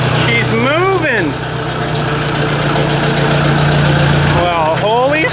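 A Ford 800 tractor engine runs steadily at idle just after firing up, a continuous low mechanical drone, with someone talking over it near the start and end.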